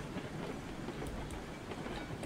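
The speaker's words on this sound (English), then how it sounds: "we're not gonna make it to the switch before the train does" A passing train in the RailRoads Online game, a steady rolling rumble of rail cars with faint clickety-clack, constant and fairly close with no talk over it.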